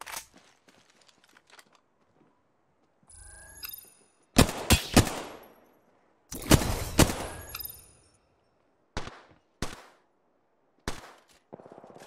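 Gunfire in a tactical shooter video game, loud clustered bursts of automatic shots separated by near silence, followed by a few isolated single cracks trailing off with short echoing tails.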